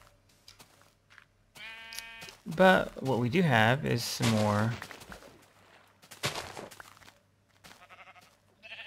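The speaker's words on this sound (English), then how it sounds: "We have a sheep." Sheep bleating in Minecraft, a few wavering electronic-sounding bleats in quick succession, loud and close, with someone talking before and after them.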